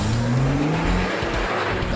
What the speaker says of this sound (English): The first test, drive very fast, then hard on the brakes 20 times over 5 laps.